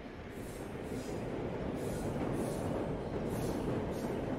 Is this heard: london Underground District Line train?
yes